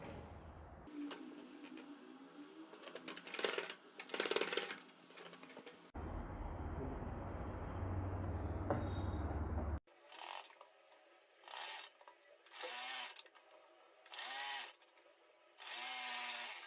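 A sewing machine stitches a folded cloth edge with a half-inch margin while joining pieces of a kurti neck design, running in repeated short mechanical bursts with pauses between, close and fairly quiet.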